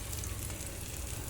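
Bata fish frying in a wok, one side already browned, giving a dense, even crackling sizzle that runs continuously and close, with no voices present.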